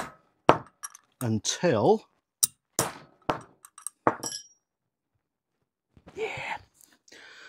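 Sharp metallic taps drive the trigger housing of a Weihrauch HW35 air rifle back into place with a soft bar, about seven quick close knocks in irregular rhythm, mixed with whispered talk.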